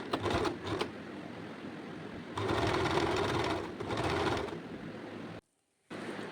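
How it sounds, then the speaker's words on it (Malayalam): Sewing machine stitching piping onto a designer nighty, close bursts of rapid mechanical whirring that start and stop, with a brief silent gap near the end. "അങ്ങനെ വെച്ച് ആ പൈപ്പിംഗ് ഹെഡ് ഉള്ളിൽ പോകാത്ത വിധത്തിൽ സ്റ്റിച്ച് ചെയ്യുക."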